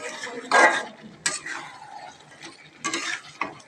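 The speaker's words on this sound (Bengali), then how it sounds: "লেগে গেছে কড়াই, প্রথমে লাড়াচ্ছি।" Meat being stirred one-handed in a kadai where it has started to stick, with bursts of scraping and clattering spatula strokes against the metal between quieter sizzling gaps, close and fairly loud.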